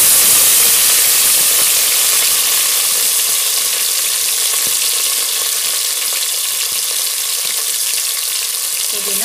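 Green chilies, onion, coriander and mint fry in hot oil for a veg biryani, giving a steady, loud, close sizzle with constant hiss and faint stirring clinks throughout.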